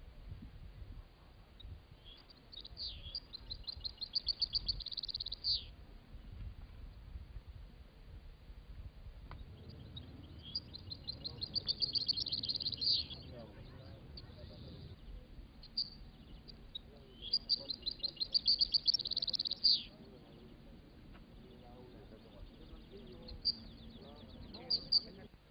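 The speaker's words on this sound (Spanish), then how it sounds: "Jilgueros europeos, Carduelis carduelis mayor y Carduelis carduelis parva, machos." European goldfinches, males of the major and parva forms, sing in bright, high twittering bursts that come and go in several clusters, fairly faint over a low background hum.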